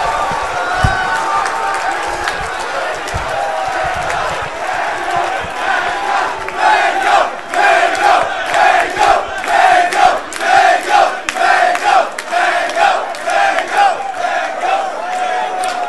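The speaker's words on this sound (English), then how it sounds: "And the crowd cheering for a four stop." A large crowd at a Super Smash Bros. tournament roars and cheers, swelling into rhythmic chanting and shouting that builds in pulses, loud and close, with little else beneath it.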